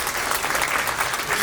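Audience applause at a grassroots party members' rally in Anyang welcomes a speaker to the floor. It is a steady, dense wash of many hands clapping together, sustained and even throughout.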